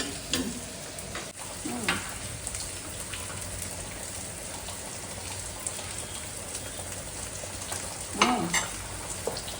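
Crushed garlic fries in a masala, giving a continuous close sizzle that sounds like rain, with a few louder bursts of stirring scrapes in the pan.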